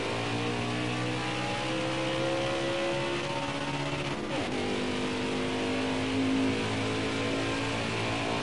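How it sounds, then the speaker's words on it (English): Custom trucks race at Dover in a PS4 racing game, engines droning steadily with layered whine as another truck closes in high and sweeps past mid-way, no voices. "Got a car coming high now."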